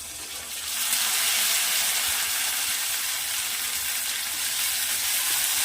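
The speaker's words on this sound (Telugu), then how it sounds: "ఇప్పుడు మనం ఇందులో కడిగి పెట్టిన ఈ చిన్న కాకరకాయలు వేద్దాము." Small bitter gourds hitting hot oil with lightly browned onions in a pan, giving a steady, loud broadband sizzle that swells after the first second and holds without pause; no talking.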